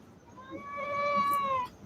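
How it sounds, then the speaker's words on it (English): A pet cat lets out one drawn-out, rising and falling meow at close range, clear and alone, ending with a short sharp noise. "she's been meowing, and I just want to give her some love"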